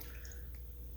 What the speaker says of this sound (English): Now I'm going to pour some of this milk on.